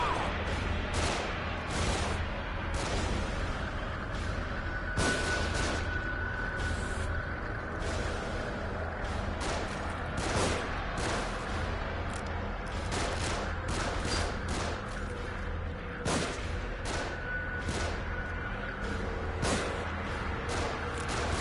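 Enemy gunfire rains down from above in The Evil Within, dense, sustained volleys of sharp shots with constant crackling and heavy impacts filling the whole stretch, loud and close with no pauses.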